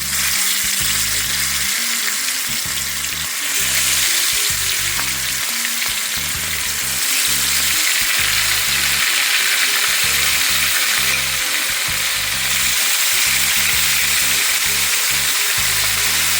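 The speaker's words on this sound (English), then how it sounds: "We're gonna fry the fish" Fish sizzles and crackles steadily in hot oil for Jamaican escovitch fish, a loud continuous frying hiss with light stirring clatter underneath and no talking.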